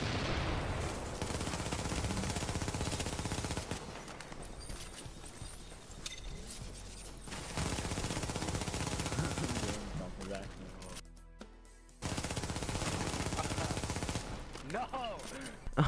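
Rapid SMG fire in The Division, long continuous bursts of automatic shots dense and loud across most of the stretch, with brief lulls and a sharp resumption near the end.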